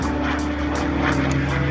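A propeller airplane drones steadily overhead at an airshow at Melun Villaroche Airfield, a continuous engine hum with a faint pulsing texture and no voices.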